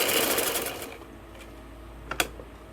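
A sewing machine stitching the hem of a gents shalwar, a rapid whirring run that fades after about a second, followed by quiet and a few brief clicks of fabric handling.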